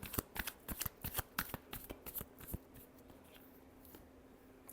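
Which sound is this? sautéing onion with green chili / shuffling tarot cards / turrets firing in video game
shuffling tarot cards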